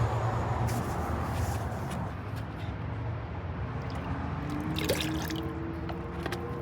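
Plant food is stirred into a container of water for houseplants, giving soft close dripping and sloshing liquid sounds at a low, steady level with no talking.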